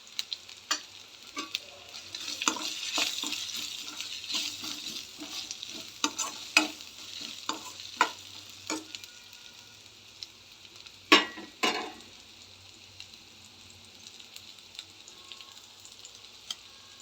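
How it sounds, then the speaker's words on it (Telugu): Onion frying with ginger and garlic in a pan for egg fried rice, a soft sizzle broken by repeated scraping and clacking stirs, with two louder knocks near the middle; close by, no voices. "ఆనియన్ బాగా ఫ్రై అయింది ఫ్రెండ్స్"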